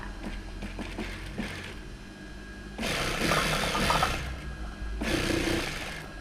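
A sewing machine stitches along the edge of a mat, running in two close, steady mechanical bursts about a second long, separated by a quieter pause and low background noise.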